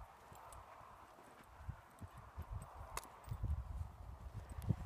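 A horse's hooves during a training lesson, soft, uneven thuds of slow steps on the ground, close but faint, growing a little busier toward the end.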